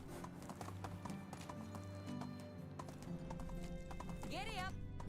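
Horse hooves galloping in the Medieval Dynasty video game, a steady clip-clop rhythm under continuous music and a rider's talk, with a brief whinny near the end.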